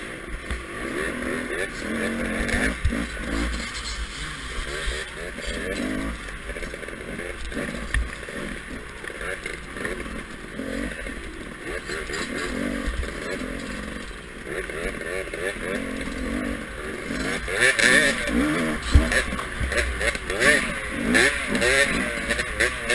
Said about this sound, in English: This guy needs to repack his muffler.